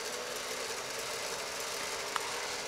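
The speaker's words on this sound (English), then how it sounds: "Motor's turning" An electric motor running at low throttle on a custom-built motor controller drawing about one amp at 20 volts, a faint steady hum and whine under a broad hissy background, with one tiny click near the end.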